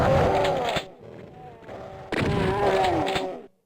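Loud, dense bursts of video game gunfire and explosive impacts while fighting shotgun-wielding enemies in a fast first-person shooter, two heavy stretches of shooting separated by a quieter gap with layered booms and echoes.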